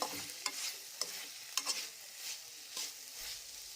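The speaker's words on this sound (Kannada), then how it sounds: "ಮಸಾಲೆ ಎಲ್ಲ ಆಲೂಗಡ್ಡೆಗೆ ಹಿಡಿಯೋ ಹಾಗೆ ಕಲಿಸ್ಕೋಬೇಕು" Boiled potatoes coated in masala are stirred in a pan for a dry aloo capsicum dish. A utensil makes repeated sharp scraping strokes with soft sizzling in between, and no voices are heard.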